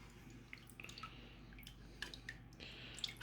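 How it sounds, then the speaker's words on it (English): Water filling the waterproof case of a cheap Object 1080p action camera: a quiet, close trickle with scattered small drips and splashes over a low steady hum. "We'll fill this case with water"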